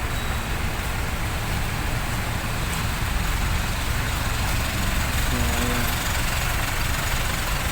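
Steady roadside traffic beside a church in Balibago, with idling car engines and a continuous low road rumble filling the scene at moderate loudness, no voices present.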